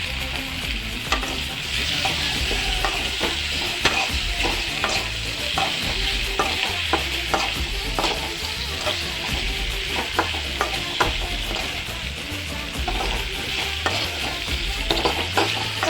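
Pasta and other ingredients for a cheese pasta fry in a pan while a spoon stirs them, producing a busy, steady sizzle broken by frequent scraping clatters and knocks, close up and without talk.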